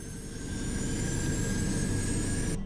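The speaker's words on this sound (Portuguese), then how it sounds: "Decolagem a toda potência." Aircraft engines roar at full power during takeoff, a loud, steady, broadband jet roar with a high whine that holds unbroken throughout.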